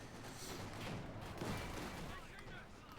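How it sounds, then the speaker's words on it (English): Heavy gunfire pouring onto a trench in Company of Heroes 2, a dense, distant-sounding wash of rifle and machine-gun fire with a commentator talking over it. "Grenadiers are being overwhelmed by the sheer amount of firepower being directed at the trench."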